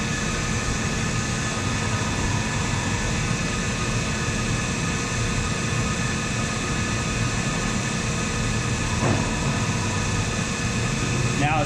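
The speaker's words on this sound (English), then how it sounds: "Now it's dropping off tool number 3 and it's going to pick up tool number 4." A CNC machine swaps tools in its spindle amid a constant whirring mechanical hum, with a single short clunk near the end.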